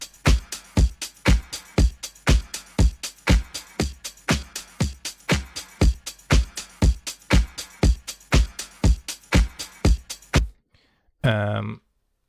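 A house track's main kick drum, layered with other drum samples, keeps a steady four-on-the-floor beat with busy percussion between the hits for about ten seconds, then drops out, leaving a short separate tonal fragment near the end.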